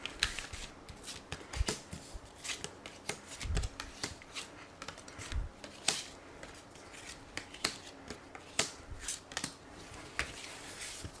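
A deck of oracle cards is shuffled for a reading, giving a steady run of crisp, close riffling flicks and taps with no voices.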